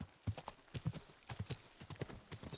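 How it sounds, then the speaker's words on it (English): A horse in the medieval video game Kingdom Come: Deliverance 2 trots at a steady rhythm, hooves striking in quick repeated clops up close, with a faint snort. "Horse! Come on, horse, let's go."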